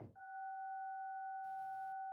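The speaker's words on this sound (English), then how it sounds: "dial tone." Synthesized dial tone from a subsynth plugin: a steady, clean two-pitch electronic hum held continuously for about two seconds, briefly joined by a burst of hiss partway through, with no one speaking over it.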